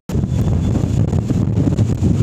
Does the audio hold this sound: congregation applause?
no